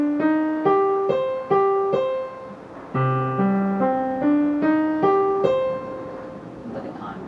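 Solo piano playing a measure of a piece, a flowing line of single notes with a bass note at each bar start, close and clear, ringing out at the end.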